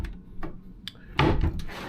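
Drawers in a ship's balcony stateroom on Royal Caribbean's Oasis of the Seas being opened and shut, several short wooden knocks and slides close by, the last one louder and longer.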